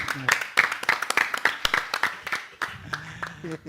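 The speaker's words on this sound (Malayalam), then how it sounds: "രണ്ട് ടീമിന് കൈയടി" Clapping for the two winning teams breaks out in a brisk run of sharp, evenly spaced hand claps, mixed with speech at a lively gathering.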